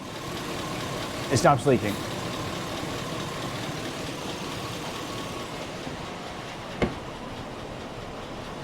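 A high-mileage Chevrolet Silverado engine with 400,000 miles, suspected of a bad lifter, idles with a low, steady rumble under a man's speech, and a single sharp clank stands out near the end.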